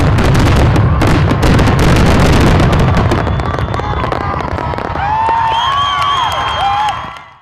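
Fourth of July fireworks launched by residents at a packed launch site, a dense run of loud cracks and bursts that thins into whistling, sizzling rockets before fading out.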